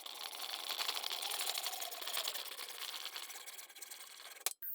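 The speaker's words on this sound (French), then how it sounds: "on coupe le tube." A PVC plumbing pipe being sawn, a steady rasping scrape running continuously for several seconds and ending with a brief clatter.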